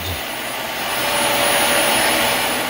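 A Dyson vacuum cleaner with a freshly repaired hose runs steadily, a loud, constant whooshing drone with a thin high whine, swelling slightly toward the end with no talking.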